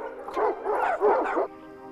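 Dogs in a kennel let out a quick run of yelping barks, fairly close, followed by a brief quiet tail.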